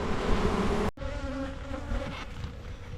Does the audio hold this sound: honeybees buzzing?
yes